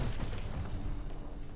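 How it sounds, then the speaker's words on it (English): A blast goes off in Marvel's Spider-Man, loud and dense, with a broad rumbling roar that holds steady for the whole short stretch and no talk over it. "an explosion just..."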